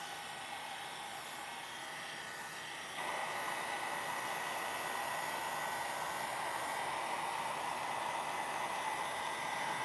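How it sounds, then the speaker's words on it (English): A small handheld heat tool drying nail gel blows with a steady whooshing hiss that grows louder partway through and then holds constant, with no talking. "So I'm gonna make mine dry with my little heat tool."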